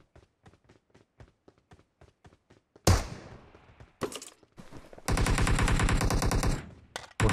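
Machine-gun fire in the video game PUBG Mobile: a row of light regular taps first, then loud sustained automatic bursts, one long and continuous near the end.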